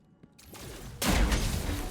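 A shotgun blast in a frantic first-person shooter match, one loud booming report after a brief quiet build-up, its rumble hanging on to the end.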